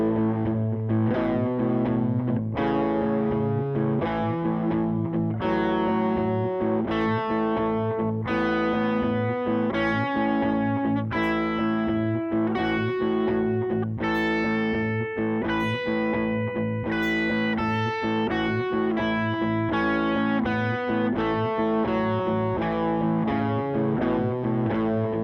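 Distorted electric guitar on the bridge pickup plays a steady run of single notes up and down a pentatonic scale, each note picked evenly, loud and close with no talking.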